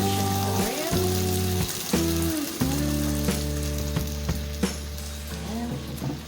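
Pork tofu frying in hot oil in a pan, a steady close sizzle with crackling pops and occasional stirring scrapes throughout, no talk.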